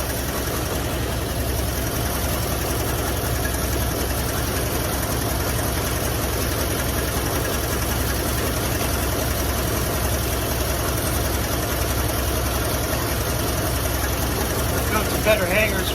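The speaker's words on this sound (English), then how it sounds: "It's idling pretty good though." A 1957 Chevrolet Bel Air, running for the first time in 30 years with a bent and tweaked exhaust pipe, idles steadily close by in a continuous low rumble, with faint talk over it.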